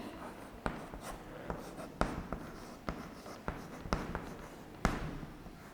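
Pen writing on paper in a school classroom, a series of soft scratchy strokes and taps at an irregular pace, quiet and close.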